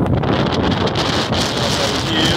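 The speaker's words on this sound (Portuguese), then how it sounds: "E o vento aqui tá gostoso." Steady wind at a beach buffets the microphone with a loud, continuous roar and rustle that does not let up.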